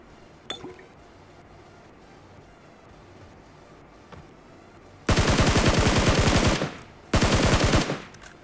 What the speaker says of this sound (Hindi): यहाँ पे विक्की को कवर फायर दिया मैंने